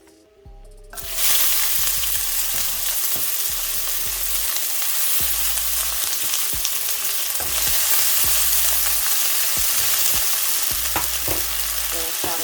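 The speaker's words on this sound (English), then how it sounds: "So I'm gonna start off with going in with my onions" Onions for a Trinidadian red bean stew hit hot oil in a pot and burst into a loud, steady sizzle, with spoon scrapes and clanks recurring against the pot throughout.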